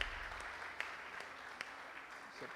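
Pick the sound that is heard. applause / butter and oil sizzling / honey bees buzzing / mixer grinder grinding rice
applause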